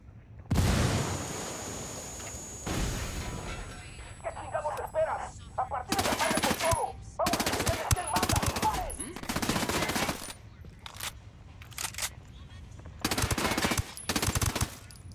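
Gunfire in the video game Ghost Recon, close-quarters combat: repeated loud bursts of automatic fire and single shots crack in rapid clusters, with short pauses between volleys.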